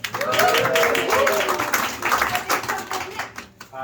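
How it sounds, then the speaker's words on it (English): A cabaret audience gives a round of applause to a guest, steady clapping that gradually thins out, with a voice talking over it. "Round of applause for Nick."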